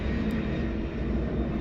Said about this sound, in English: We talk about airplane flying over.